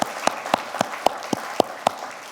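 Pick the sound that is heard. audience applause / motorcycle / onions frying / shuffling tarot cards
audience applause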